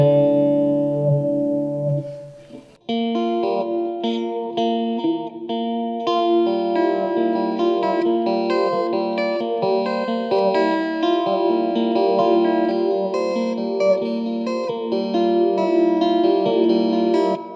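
Electric guitar chords swirl through a sweeping MXR Phase 100 clone phaser effect, full and sustained, after a brief clean opening strum.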